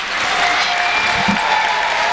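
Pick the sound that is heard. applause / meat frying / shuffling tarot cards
applause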